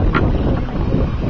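Wind buffets a microphone outdoors on a small boat during a monsoon, a steady low rushing roar over open water with no talking.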